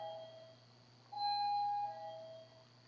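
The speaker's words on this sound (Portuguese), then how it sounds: "Tá tocando a campainha." A doorbell chimes faintly once against a steady low background hum, with no voices.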